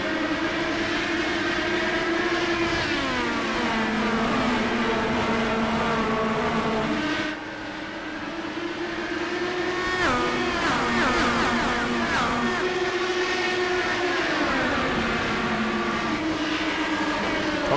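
Indy-style race cars in iRacing roar around the Milwaukee Mile oval, their engines droning loud and steady as the pitch rises and falls across several passing cars, with a brief dip midway.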